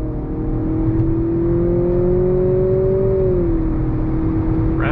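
A 2023 Nissan Altima Turbo sedan with a CVT accelerates at full throttle, heard from inside as a loud, steady engine drone whose pitch rises slowly, then dips slightly near the end.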